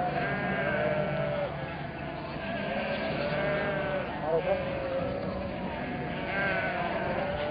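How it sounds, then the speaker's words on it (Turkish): Many lambs bleating on a highland pasture as they search for their mothers, overlapping cries near and far, with someone narrating throughout. "Her kuzu anasının kokusunu arayarak korkulu meleğişleriyle başının derdine düşmüş gibidir."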